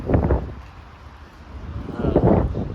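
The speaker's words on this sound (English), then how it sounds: "The wind is just brutal." Strong gusts of wind at the Berlin Wall on a hot day buffet the microphone in two loud rumbling bursts, one at the start and one near the end, with a calmer lull between.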